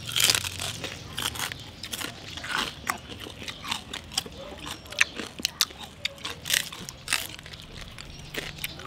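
Close, crisp crunching as someone bites and chews crispy chicharon bagnet, irregular loud cracks and crackles between softer chewing sounds.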